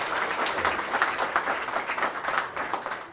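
An audience at a Redbank Chamber of Commerce evening event gives a sustained round of applause, many hands clapping together in a steady, fairly loud patter that ebbs slightly near the end.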